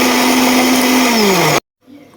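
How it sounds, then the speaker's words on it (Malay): A kitchen blender whirring loudly as it blends toasted shrimp paste belacan with lime, bird's eye chili, salt and sugar, its motor pitch dropping slightly before it cuts off abruptly, followed by quiet room sound. "kita blend belacan bakar, 4 biji limau nipis, cili padi, garam dan gula"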